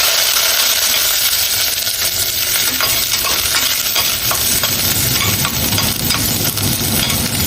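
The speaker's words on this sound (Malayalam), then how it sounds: "വഴറ്റാം." Green chillies and curry leaves sauté in a hot pan for a vegetable bhaji, giving a steady, loud sizzle and crackle throughout with faint scraping of a spoon.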